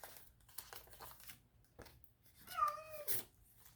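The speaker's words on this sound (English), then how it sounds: "Sorry, that's my cat." A house cat gives a single short meow, close and fairly loud against a quiet room, with soft rustling and crinkling of paper before it.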